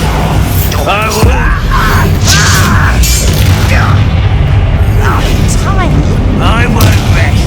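Bombarda spell blasts booming in Hogwarts Legacy combat, a few heavy explosive thuds mixed with clanking and magical effects under continuous shouting voices and game music.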